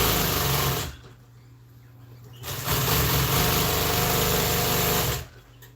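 Sewing machine stitching a custom Polaris seat, one steady motor-driven run of about two and a half seconds alone between quieter pauses, with a shorter start just before it.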